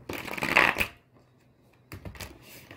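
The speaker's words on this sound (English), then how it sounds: "One more shuffle." A quick riffle of tarot cards being shuffled, a crisp flutter followed by quieter taps and shuffling, close and soft, with no voices.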